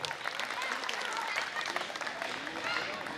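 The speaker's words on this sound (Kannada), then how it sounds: "ಆ ಮುದ್ದು ವಿದ್ಯಾರ್ಥಿಗಳಿಗೊಂದು ಜೋರಾದ ಚಪ್ಪಾಳೆ ಹೊಡಿ" An audience at a spiritual discourse in Palabhavi claps for students, a dense, fairly distant crackle of many hands that holds steady throughout.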